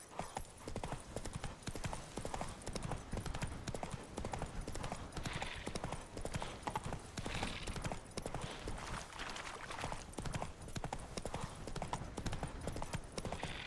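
Horse hooves clip-clop at a steady trotting rhythm in The Witcher 3 on PS5, a continuous, fairly quiet patter of hoofbeats lasting throughout.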